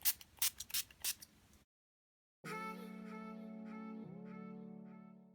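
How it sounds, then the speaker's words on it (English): NYX Mattifying Matte Setting Spray is spritzed onto a face in several quick, close hissing bursts, followed by silence and then a steady tonal hum. "finish my face with the NYX Mattifying Finish Fit Matte Setting Spray"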